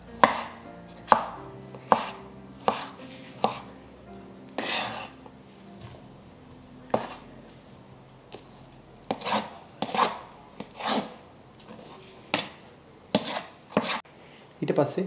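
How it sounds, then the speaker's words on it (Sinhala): A knife chops ripe avocado into small cubes on a board for a Sri Lankan avocado salad, giving a run of crisp, close thuds in irregular bursts with short pauses, over faint steady background tones. "ඊට පස්සෙ මේ විදිහට මේක කපා ගන්න ඕනේ. මේ සියල්ලම කපන්න ඕනේ මේ කොටු හැඩයට."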